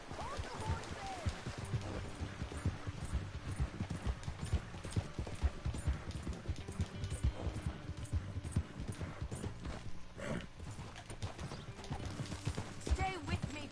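Horse hooves clip-clop steadily in the Red Dead Redemption 2 video game, a continuous trotting rhythm at moderate volume under intermittent speech.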